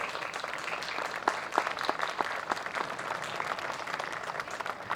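An outdoor crowd gives park commissioners a round of applause at a town square park grand opening, steady scattered clapping throughout, moderately distant.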